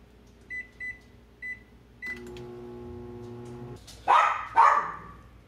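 A dog barks in a kitchen, several sharp separate barks early on, then two louder bursts near the end, while a microwave oven hums and beeps in between.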